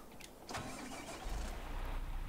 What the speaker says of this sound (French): On voit dans le nouveau tracteur pour tirer la tenue en plus.